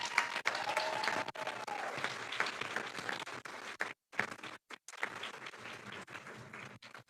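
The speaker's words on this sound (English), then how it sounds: "So please give Scott another round of applause" Steady, sustained applause from an awards-ceremony audience, many hands clapping in a dense wash that briefly drops out for a couple of short gaps before resuming at full strength, with no talking over it.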